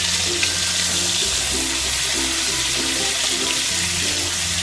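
Giant freshwater prawns fry in hot oil in a pan with a constant loud, close sizzle and bubbling hiss, and a low hum underneath; nobody speaks.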